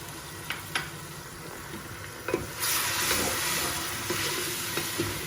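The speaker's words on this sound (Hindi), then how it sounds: "अब हम इसमें अदरक लहसुन का पेस्ट शामिल कर देते हैं।" Ginger garlic paste frying with light golden onions in a pan for a turnip chicken curry: a few sharp stirring clicks, then a louder, steady sizzle swelling up midway and holding to the end.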